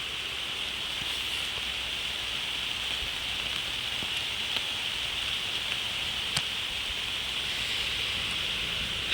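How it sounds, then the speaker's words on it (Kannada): Heavy rain falls in a steady, dense hiss that stays loud and even throughout, with a few sharper drops or taps standing out now and then. "ಮಳೆ ಜೋರ, ಸಿಕ್ಕಾಪಟ್ಟೆ ಮಳೆ ಜೋರ ಆಯಿತು"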